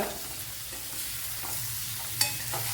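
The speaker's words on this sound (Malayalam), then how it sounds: "ഒരു 5-10 മിനിറ്റ് വെച്ച് ഇതൊന്ന് വഴറ്റിയെടുക്കണം. ലോ ഫ്ലെയിമിൽ വെച്ച് വേണം വഴറ്റിയെടുക്കാൻ." Rambutan pickle mixture sautés gently in a pan over a low flame, giving a continuous soft sizzle with faint stirring scrapes and one brief clink near the end, with no voices.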